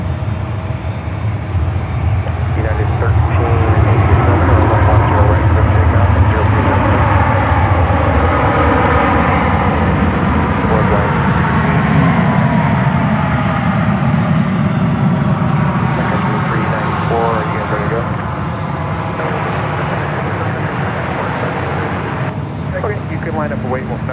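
An airliner takes off from runway 10 right at San Francisco airport, its loud, broad engine roar sustained throughout, with air traffic control radio talk over it.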